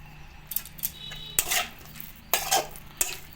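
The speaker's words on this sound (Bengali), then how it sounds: "গরম আছে, একটু হাত দিয়ে মাখলাম না, খুন্তি দিয়ে মেখে নিলাম।" A metal spatula mixes a hot fish mixture for steamed fish (maach bhapa) in a bowl, giving several sharp scraping clinks spaced about a second apart over faint background hiss.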